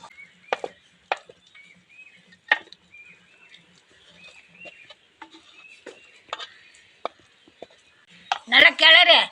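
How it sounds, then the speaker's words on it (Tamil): A spoon scrapes and taps against a pan while mango rice is stirred with oil, giving sparse, irregular clinks, with a rooster crowing and clucking in the background and a short burst of voice at the end. "நல்லா கிளறு. அப்பதான் எல்லாம் கலங்கும்."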